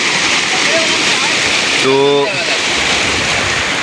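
Floodwater from overnight rain in a Bihar village rushes over a river and fields, a loud, steady watery roar that fills the whole scene, with someone briefly speaking over it.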